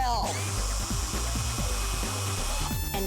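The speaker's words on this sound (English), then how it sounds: "What other diva has an 18-volt drill?" An 18-volt cordless power drill whirs steadily and loudly at close range for about three seconds in a home setting, its motor pitch holding even, with a brief shift in tone near the end.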